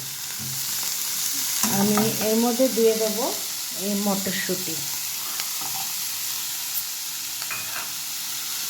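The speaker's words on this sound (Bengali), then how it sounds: "আমি একটু ফ্রাই করে নেব।" Cauliflower fries on low heat in a pan for a mashed-prawn cauliflower dish, giving a steady soft sizzle throughout with a few stirring scrapes, partly under a person speaking.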